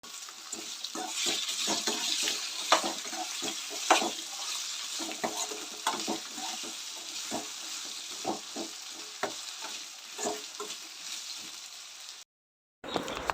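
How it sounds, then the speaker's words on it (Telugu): Potato pieces frying in oil while being stirred, a continuous close sizzle dotted with scrapes and clinks of a utensil against the pan, briefly cutting out near the end. "పొటాటోస్ వేసిన తర్వాత బాగా మిక్స్ చేశాను ఆయిల్లో"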